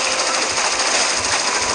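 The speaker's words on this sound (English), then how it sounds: "Wait, we got machine gun?" Rapid continuous machine gun fire in the video game Minigore 2, a loud dense rattling burst with no pause, alone without talk.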